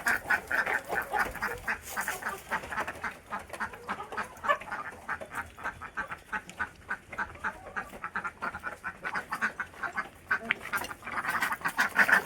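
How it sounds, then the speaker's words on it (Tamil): A flock of ducks quacking continuously and noisily nearby, overlapping calls in a busy, rhythmic chatter. "வாத்து வாத்து வாத்து வாத்து."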